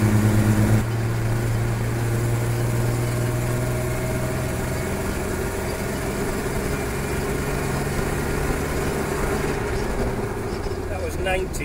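A car with a GM 110 V6 Vortec engine pulls away in third gear, giving a loud, steady engine drone close by that rises slightly in pitch.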